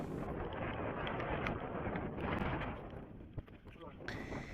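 Wind and rain buffeting the microphone on sea cliffs during a fishing trip in a downpour, a loud, constant roaring rush of broadband noise with occasional gusty bursts.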